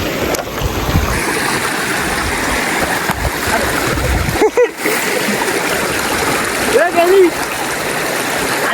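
A river in the Konkan region rushes steadily while people fish, its broad, close splashing wash filling the whole stretch without pause, with a couple of brief vocal sounds rising over it near the middle and end.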